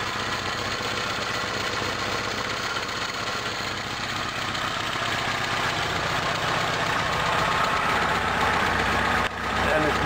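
A carburettor engine idles steadily and loudly throughout, a continuous close mechanical rumble while the fuel mixture screw is adjusted, with a brief dip near the end.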